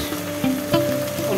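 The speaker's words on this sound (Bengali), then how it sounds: "আদা রসুনটা আমি একটু পেঁয়াজের সাথে তেলের সাথে কষিয়ে নিয়ে এরপরে মশলাগুলো দিব" Ginger, garlic and onion sizzle and fry in hot oil, a steady close crackle with a couple of louder stirring bursts and a faint tonal hum beneath, no voices.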